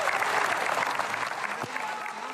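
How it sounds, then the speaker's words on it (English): Members of the public, mainly women, applauding and cheering Gisèle Pelicot outside court in France, a dense sustained clapping crowd with scattered shouts, while a voice talks over it. "she's being cheered and applauded by these members of the public"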